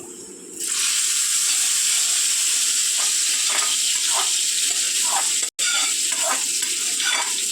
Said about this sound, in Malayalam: ഇനി നമുക്ക് കടുക് വറുത്തത് ഇതിൻ്റെ അകത്തേക്ക് ഒഴിക്കാം.